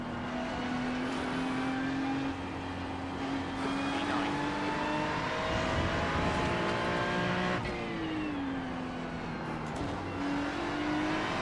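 Race car engine in iRacing at Daytona road course, a steady high drone with pitch sweeps as it downshifts and revs, with tire noise underneath and a voice talking over it.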